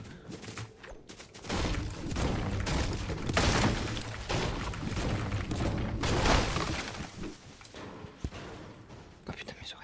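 Nearby gunfire and crashing impacts in a Fortnite Reload match, a loud, dense stretch of shots and bangs that builds, peaks, then thins out toward the end, with talk mixed in.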